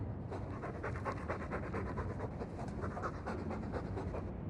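Rapid, even panting from a dog in the video game Dragon Age 2 continues close up at moderate loudness, a steady breathy rhythm with no voices.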